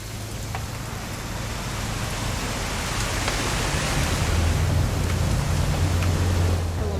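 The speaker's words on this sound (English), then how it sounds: "It's gonna rain the whole weekend, isn't it?" Steady, dense rainfall in the video game What Remains of Edith Finch hisses throughout, with a low rumbling hum underneath.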